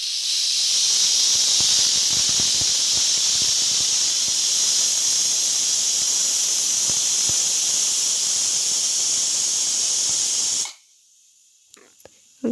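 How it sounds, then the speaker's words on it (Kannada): A pressure cooker whistles steadily with a loud, continuous steam hiss while tadde kaalu pulao cooks, lasting about ten seconds before stopping abruptly into near silence. "1 ವಿಷಲ್ನ ಕೂಗಿಸ್ಕೋಬೇಕು."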